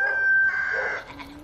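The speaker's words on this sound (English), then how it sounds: "He's getting a lot more comfortable with his crowing" A rooster crows once, a sustained, fairly loud tonal call that rises and then trails off, heard alone and close by with no talk over it.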